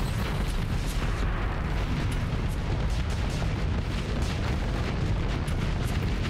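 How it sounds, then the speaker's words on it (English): Missile barrage in the space combat game Starsector: a dense, continuous roar of overlapping explosions and booms, loud and unbroken throughout with no pauses and no talking. "That is a lot of missiles."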